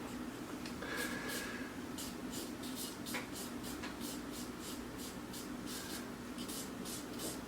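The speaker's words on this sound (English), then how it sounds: "I'm also making my hatch marks with the shape of whatever part of the drawing" Pencil hatching on paper while drawing a hand: quick rhythmic scratchy strokes repeating close up over a soft steady background.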